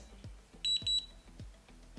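Two quick, high-pitched electronic beeps ring out close by, over a soft, regular low thumping in the background.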